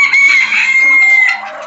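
Broody hens on a farm cluck and call loudly and continuously at close range, with no talking over them.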